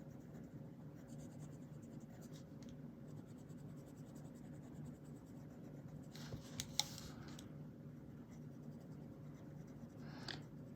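Amazon Basics coloured pencils shade across paper in soft, continuous scratchy strokes, close and quiet, with a few slightly louder scrapes near the end and no voices.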